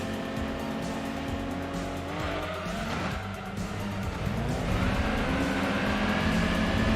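Race cars in Gran Turismo 2 roar in a close pack, a Fiat Coupe Turbo with a turbocharged inline five among them, engines droning steadily loud while tires squeal and skid through corners, with no talk over it.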